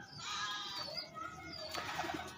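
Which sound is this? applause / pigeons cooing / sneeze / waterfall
pigeons cooing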